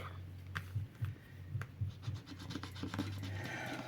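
A scratch card is scraped in a series of short, rhythmic strokes, close and crisp, with brief pauses between rubs and a longer scraping pass near the end.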